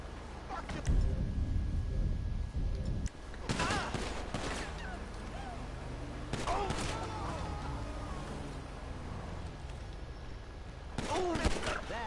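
Gunfire in GTA 5 during a police role-play session: bursts of rapid shots in several clusters over a steady engine-like drone, with people talking between the volleys.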